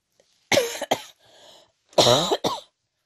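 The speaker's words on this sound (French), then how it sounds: "Je tousse." Two close, harsh coughing fits, each a pair of sharp bursts, separated by a short pause with a faint breathy sound.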